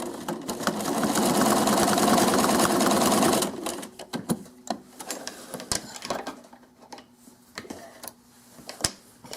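A sewing machine stitches faux-piped quilt binding in a fast, steady whir for a few seconds. Clicks and light handling noises of the quilt follow.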